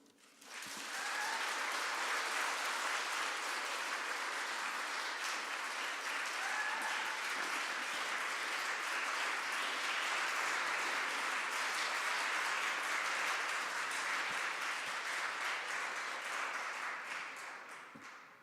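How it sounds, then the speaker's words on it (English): An audience at a farming conference applauds at length after a talk on empowering women farmers in Zambia, with dense, even clapping that swells quickly and holds steady before tapering off. "Well-deserved long clap there."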